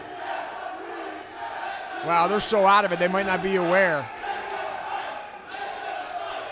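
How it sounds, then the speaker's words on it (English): At a live independent wrestling show, the crowd bursts into a loud, rhythmic chant of 'let them fight' that lasts a couple of seconds, while a commentator talks over the steady arena murmur. "the crowd chanting, let them fight"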